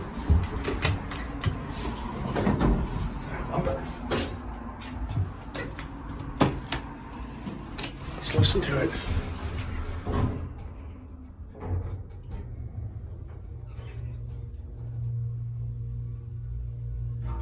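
A Dover hydraulic elevator in a medical office building runs with clattering door and mechanism clicks and thumps, then settles into a steady low motor hum near the end, with a voice talking briefly at the start.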